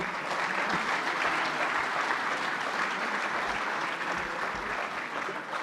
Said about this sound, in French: Merci d'applaudir Mario Gervasi.